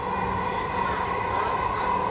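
A Dhaka Metro Rail train runs at speed on its elevated line, a steady loud rumbling hum with a whine, heard from inside the carriage.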